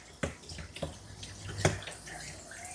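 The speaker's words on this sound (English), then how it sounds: "Last place to rinse out, always the belly. All that soap runs down under there." Water from a hose or tap rinses soap off a Yorkie's belly during a grooming bath, a soft steady splash with a few brief clattering knocks over it.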